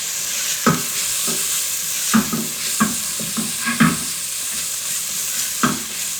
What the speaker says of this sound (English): I like to let my onions sweat for a little bit before I go in with my garlic